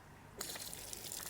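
Water gushes from a farm pipe just after the stop tap is opened, a sudden steady rushing trickle that starts partway in and continues close and fairly loud.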